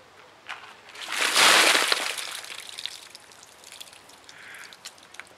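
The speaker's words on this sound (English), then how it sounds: "dump a bucket of ice and cold water on your head" A big bucket of ice and cold water is dumped over someone's head, giving a loud splashing burst that sloshes and fades into scattered drips and trickles.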